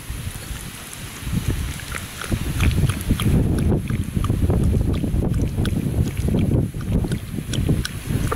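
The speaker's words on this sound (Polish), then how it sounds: "Być może słyszycie szum wiatru." Gusty wind roars across an outdoor microphone on a warm, windy walk, a steady low rumble that swells from about two seconds and holds loud throughout, with faint scattered footsteps and no speech.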